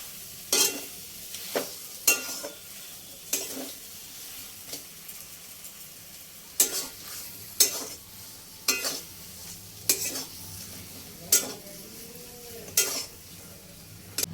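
Potatoes fry with black pepper and spices in a pan while a spoon stirs them, giving a soft sizzle under repeated sharp scraping strokes against the metal, spaced every second or so.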